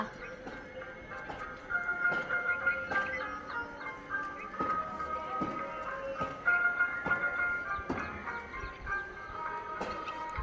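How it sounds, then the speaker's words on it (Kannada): A garbage collection vehicle arrives playing its looping melodic jingle, clear and fairly close, with rhythmic clunks and street noise beneath. "ಗಾಡಿ ಬಂತು ಗೈಸ್, ಕಸ ಹಾಕಿ ಬರಬೇಕಲ್ವ"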